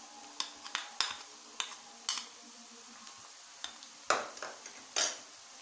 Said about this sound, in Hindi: इसे भी मिक्स कर लेते हैं।